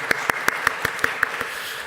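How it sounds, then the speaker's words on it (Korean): A church congregation at a Sunday worship service claps in welcome: about ten crisp, evenly spaced claps in unison at a brisk, steady tempo, moderately loud against a soft room background. "우리 격려 환영의 박수 드리겠습니다."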